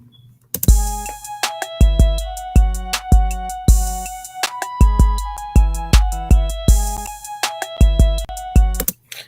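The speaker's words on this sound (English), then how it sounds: "So with the layered claps and everything together, sounds like this." A trap beat, built in Soundtrap, plays loud and close with sharp layered claps and snappy hits in a steady repeating pattern over a melodic loop, with booming low kicks punctuating the rhythm.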